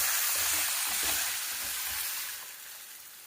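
Ground masala paste poured into a pan of softened frying onions for a Tamil fish curry bursts into a loud, close sizzle that gradually settles and fades slightly.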